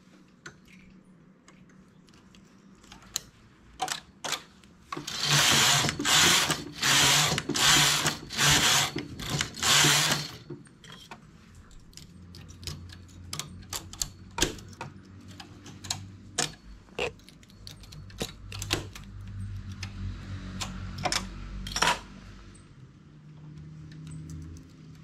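A knitting machine working a tip top with a side opening: scattered sharp mechanical clicks and ticks, then a burst of rapid rhythmic clacking as the carriage is run back and forth, followed by more intermittent clicks and low rumbles.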